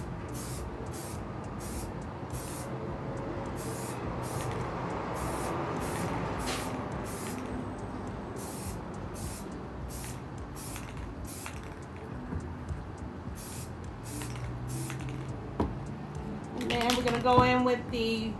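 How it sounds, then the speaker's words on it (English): Light, short bursts of pink spray paint hiss repeatedly onto a tumbler in an even rhythm, a dozen or more close puffs, with a person talking softly underneath. "So we're gonna start with the pink at the bottom, and I'm just gonna do light sprays"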